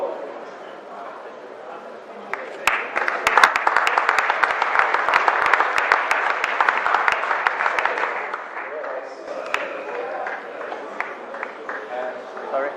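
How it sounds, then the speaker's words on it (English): Audience applause at an ERF 2016 awards ceremony rises into a dense, steady burst of clapping for several seconds, then thins out as voices carry on over it. "special applause to the finalists"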